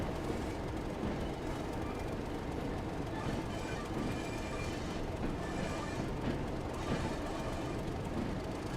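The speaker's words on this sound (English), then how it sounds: "This is the best track sounds in the game." Steady rail rumble and wheel clatter over the track from a British Rail train in the Train Sim World 5 video game, a dense, continuous roar with rhythmic clicks running throughout, loud and close.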